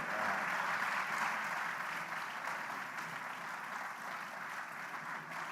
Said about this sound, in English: Can you clap for me well?